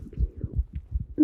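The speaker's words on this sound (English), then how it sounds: "you can hear their heartbeat through the fucking lavalier mics" Heartbeat of people hugging, picked up through clip-on lavalier microphones: a steady run of soft, low thumps, close and muffled, repeating evenly with no other sound.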